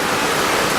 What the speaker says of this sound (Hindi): वही दरिया की पानी की आवाज